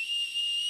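A single short, shrill blast from a Lunker fishing whistle, high and steady, lasting under a second.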